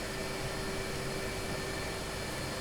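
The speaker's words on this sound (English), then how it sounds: "going to park the airplane just in front of the hangar" An F-18 Hornet jet taxiing toward a hangar in a flight simulator game, a steady even engine roar with whine and broadband rush, constant and moderately loud throughout with no speech.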